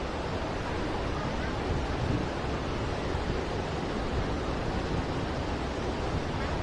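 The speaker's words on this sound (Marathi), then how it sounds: "मस्त वारा सुटला" Strong wind blows at a hilltop cave temple, Ramling Temple near Palsambe in Kolhapur, as a dense, continuous roaring rush that stays steady and loud throughout, with no clear voices.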